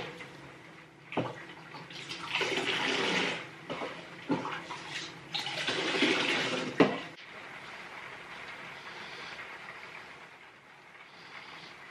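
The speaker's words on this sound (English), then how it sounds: "I think I'm going to do a bucket bath rather than try and have a shower" Water splashing and pouring in bursts for a bucket bath in a tiny home's outdoor shower area in the Portuguese countryside, loud gushes around the middle fading to a softer trickle.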